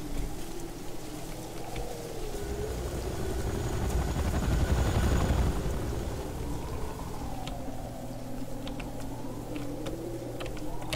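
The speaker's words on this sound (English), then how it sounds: "When I go up there, usually, because I usually have rocket ammo, a helicopter, an attack helicopter, will drop down" Attack helicopter in the Renegade video game, a steady rotor drone with low rumble that swells to a louder peak near the middle before settling back, no speech.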